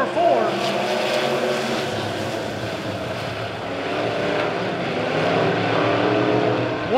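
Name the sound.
Midwest Modified race cars racing into turns 3 and 4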